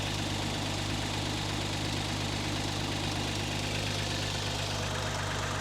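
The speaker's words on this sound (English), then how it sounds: "It's not the quietest engine" A Porsche 924 turbo engine idles steadily and loudly up close, with a low constant hum and a faint rattly, clicking texture running through it.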